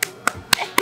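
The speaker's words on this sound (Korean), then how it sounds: "와, 박수!" Four sharp hand claps in a quick, steady rhythm, close and fairly loud, with a faint voice in the gaps.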